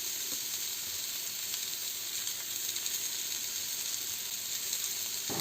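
Grated carrot and coriander leaves sautéing over medium heat in a pan give a steady, close sizzle with faint scraping throughout, no voices.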